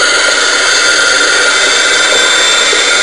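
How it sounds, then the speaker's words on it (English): Underwater recording of a small boat approaching from about a quarter mile off, a dense continuous hiss and hum of engine and propeller noise that holds steady and fills the whole stretch. "And now you can hear a small boat approaching from about a quarter mile away."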